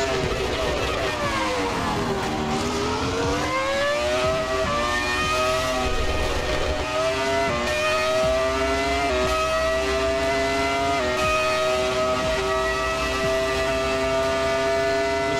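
A Ferrari F2004 Formula One V10 screams around Monza's 1988 layout in a racing game, with a steady high-pitched engine note that dips into a braking downshift and then climbs through gears, droning continuously with faint talk underneath.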